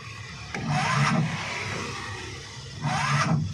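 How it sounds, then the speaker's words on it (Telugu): An auto rickshaw engine cranks and catches, giving two rough bursts of rattling mid-pitched engine noise that settle into a steady idle between them, close by. "ఇప్పుడు బండి స్టార్ట్ అవుతుంది చూడండి."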